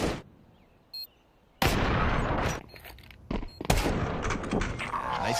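Rapid gunfire bursts from a Counter-Strike esports match between professional teams, loud close shots and rattling volleys with quiet gaps between engagements.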